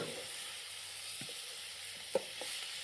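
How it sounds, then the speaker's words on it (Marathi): Cut kartoli (spiny gourd) vegetable being stirred in a large kadhai over a traditional wood-fired stove, giving a soft, steady sizzle with a few brief scraping clicks, fairly faint, with no talk. "जे कापून घेतलेले जे करटोले होते ते करटोले त्याच्यामध्ये टाकले आणि आता त्याच्यामध्ये मस्तपैकी मिक्स करून घेऊयात"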